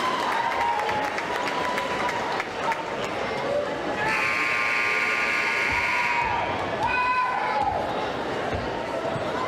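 Crowd at a high school boys basketball game applauding and cheering for the cheer team, a dense sustained roar of clapping and voices with a whistle-like tone in the middle, loud and close.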